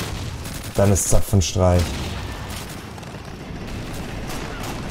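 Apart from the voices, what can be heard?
artillery gun firing in Call of Duty 2 video game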